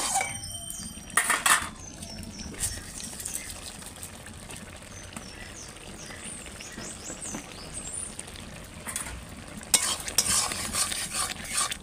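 A spoon stirs a spinach and prawn curry in a pan after sugar is added, with steady scraping and a soft sizzle running throughout, and brighter clattering bursts near the start and end.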